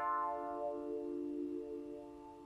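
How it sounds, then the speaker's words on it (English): A retro funk electric piano patch from Easy Keys sounds a single soft chord that rings and slowly fades, faint and alone. "I got the retro funk piano sound. And it sounds something like this."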